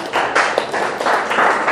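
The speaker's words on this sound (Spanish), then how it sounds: "aplauso para ustedes que son líderes" An audience of leaders from San Juan de Miraflores applauds, a dense burst of clapping that swells and continues steadily throughout, close and moderately loud.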